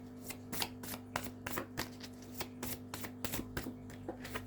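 Martian oracle cards are shuffled close up and quietly, a run of about a dozen crisp papery riffles and flicks in an irregular rhythm over a faint steady hum.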